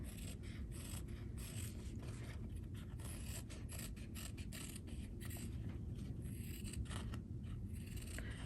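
Scissors snipping through quilt fabric, a quiet run of small crisp cuts and scraping blade clicks repeating steadily and close up, with no voices.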